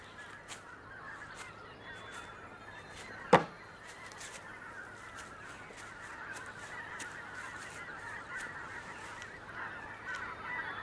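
Geese honk repeatedly from a distance across an open landscape, the calls faint and scattered over a low steady hum, broken once by a single sharp knock.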